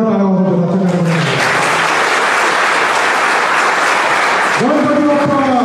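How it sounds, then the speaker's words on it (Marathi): Loud, sustained applause from an audience at a police station felicitation ceremony for Ganesh festival mandals, a dense steady clapping that fills the clip, with a voice speaking briefly at the start and again at the end. "आपण स्वतः करता एकदा जोरदार टाळ्या वाजवतो आजच्या कार्यक्रमामध्ये"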